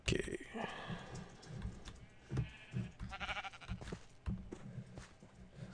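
Sheep bleat in Minecraft with the TerraFirmaCraft mod, a few short bleats rising over clattering keyboard typing and soft clicks at moderate loudness.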